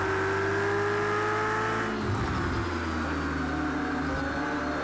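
Race cars in Project CARS 2 at Sugo roar steadily, with a loud engine note that dips around the two-second mark as a car shifts or passes, then climbs again, with no talk over it.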